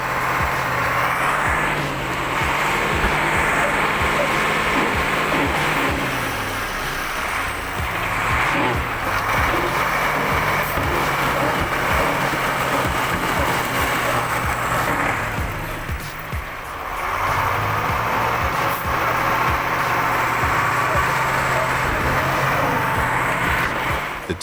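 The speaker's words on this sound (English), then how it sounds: "The engine roared fiercely, torque pushed to the limit, but no miracle happened." A TDT-55 tractor stuck in mud with its engine roaring under heavy load, a loud, sustained drone that surges and dips as it strains, with a voice talking over it at times.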